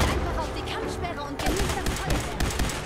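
Rapid bursts of gunfire in the Fallout 4 game, several close cracks and volleys in quick succession, louder in the second half, with a voice speaking over the shots.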